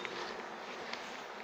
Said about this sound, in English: I'm going to brush off the rest of the bees